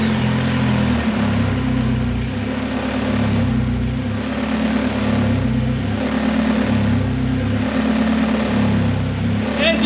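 Engine of a 2004 Saab 9-3 Aero with its exhaust missing runs loud and close, a steady raw throbbing drone with a deep rhythmic pulse, continuous throughout with no talk.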